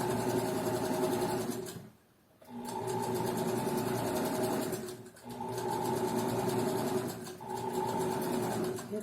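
Sewing machine stitching fabric and finishing with a backstitch: three loud, close runs of busy mechanical whirring, separated by short pauses, with no speech.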